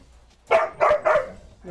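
Three quick barks from pet dogs indoors in a home, loud and close, evenly spaced over a second, with a faint voice starting at the end.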